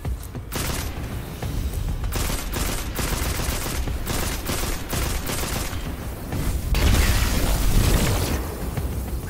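Gunfire in Destiny 2 while exploring Nessus, dense rapid bursts and booming shots in a sustained loud barrage with brief gaps, heaviest toward the end.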